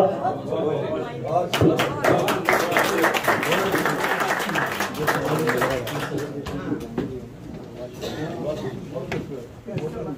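Audience applause and clapping at an Urdu poetry mushaira evening honouring a poet, steady dense clapping mixed with chatter and a voice over it, sustained for several seconds before tapering slightly.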